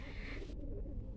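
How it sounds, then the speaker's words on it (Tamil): Pigeons coo softly during a pigeon release, set against a steady outdoor background with a brief brighter burst at the start. "ஆனால் நிறையா புறாக்கள்"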